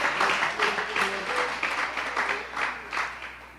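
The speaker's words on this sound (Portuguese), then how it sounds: "Aplauda o Senhor." Rhythmic group clapping from a church congregation, with voices singing or calling along in the background.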